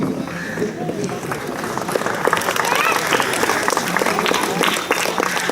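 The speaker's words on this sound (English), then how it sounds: "Big round of applause for the kids." An indoor crowd at a residents association event gives sustained applause for the children who won a drawing and colour competition, with clapping mixed under a voice on a loudspeaker.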